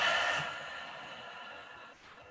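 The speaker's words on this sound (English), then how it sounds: "and out through the mouth." Someone breathes out through the mouth as part of a gentle yoga breathing routine, a single close, breathy exhale that tapers off gradually, with a faint breath at the very end.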